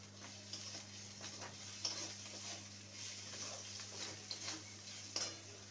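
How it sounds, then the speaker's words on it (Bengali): Salted chopped carrots fry in a pan and get stirred, a faint, soft sizzle under a low electrical hum, with intermittent light scraping and clinking strokes of a spatula against the pan and no speech. "গাজরটা ভাজা হয়ে গেছে"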